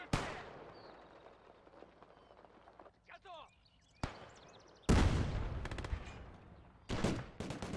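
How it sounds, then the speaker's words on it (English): Machine gun fire and other gunfire crack through a battle in the World War II strategy game Gates of Hell: Ostfront, sharp bursts and booms heard at fairly low volume, mostly later on, while someone talks over them. "It's also pretty crazy how inaccurate that machine gun is at that range."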